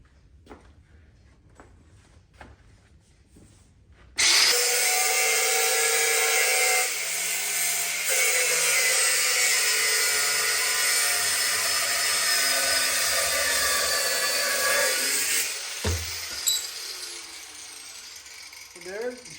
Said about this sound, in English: figure out exactly where you wanna cut, get out your grind wheel